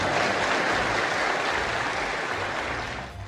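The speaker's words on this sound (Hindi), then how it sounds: "जब उनका भाषण खत्म हुआ तब पूरा सदन तालियों की गड़गड़ाहट से गूंज रहा था।" Ethiopia's parliament in a joint session breaks into sustained applause after Prime Minister Modi's address, a dense, even wash of clapping from a large hall that tapers slightly at the end.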